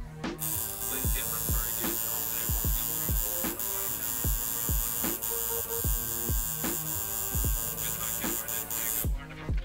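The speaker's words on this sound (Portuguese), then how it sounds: "eu consigo rastelar com a máquina de traço" Tattoo liner machine running steadily while shading on skin, a close, continuous electric buzz with a steady hum, broken by repeated short ticks and knocks throughout.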